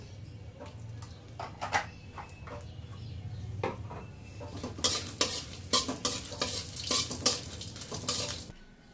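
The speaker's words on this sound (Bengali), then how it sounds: "আলুর ভর্তা বানাবো তাই মরিচ ভেজে নিচ্ছি একটু তেল দিয়ে দিলাম" Chili peppers fry in a little oil, meant for mashed potato bhorta, giving a steady sizzle with repeated clinks and scrapes of stirring that grow busier toward the end, close and fairly loud with no talking.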